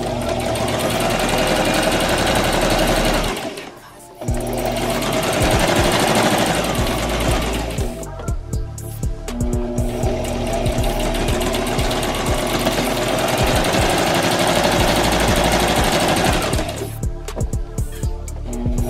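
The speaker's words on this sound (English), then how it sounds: "we're gonna sew it at 1/4 inch all the way from one side, all the way up around the nose, down, and to the other side down here" A sewing machine runs fast and loud, stitching layers of fabric for a reusable face mask with a filter pocket. Its steady whirring chatter is broken by a short pause near the start and small dips later.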